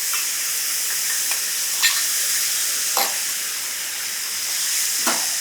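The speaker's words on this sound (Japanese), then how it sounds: "火を止めてですね、さっきのタレを上からかけるんです" Sauce poured over a rump steak on a camping grill with the heat turned off sizzles in a steady close hiss, with a few sharper crackling spurts breaking through.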